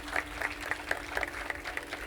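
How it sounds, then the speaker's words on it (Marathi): Audience clapping for hostel boys seated at the back of a Geet Ramayan performance hall, a steady, moderately loud patter of many hands lasting a couple of seconds. "जोरदार टाळ्या त्यांच्यासाठी द्या की तिथनं ती मुलं सगळी इथं आली."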